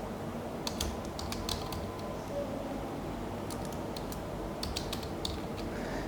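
Code being typed on a computer keyboard during a C programming lesson, scattered light key taps in small clusters over a steady low background hum, close but quiet, no talking.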